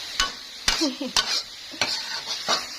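Pork sizzles in a hot, heavily used wok while a utensil scrapes and stirs in several sharp strokes, close up, with no talking.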